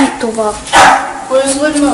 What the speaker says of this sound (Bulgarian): Това е моето куче.